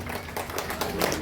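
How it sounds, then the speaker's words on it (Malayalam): Audience clapping hands at a family meet at a heritage venue in Shornur, a steady dense patter of many hands filling the short moment, fairly close and sustained throughout. "എല്ലാവരുടെയും ഒരു ഹൃദയം നിറഞ്ഞ ഒരു കയ്യടി നൽകി ആശംസിക്കണമെന്ന് അഭ്യർത്ഥിക്കുന്നു"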